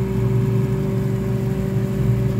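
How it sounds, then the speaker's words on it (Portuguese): A Brastemp refrigerator fan runs in self-test mode with a steady electric whir and low motor hum, continuous and even, without any talking. "Aí aqui aciona o ventilador."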